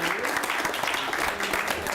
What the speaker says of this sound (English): And I ask you all to join me in applause for these counselors.